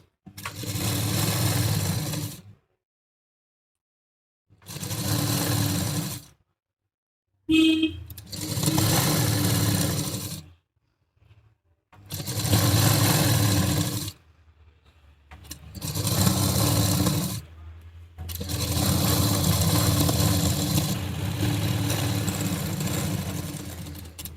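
An electric sewing machine stitching a double seam on a gown sleeve: loud, close mechanical whirring in six bursts of a few seconds each, separated by short silent pauses, with the last run the longest.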